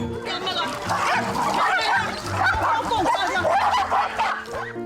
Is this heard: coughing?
no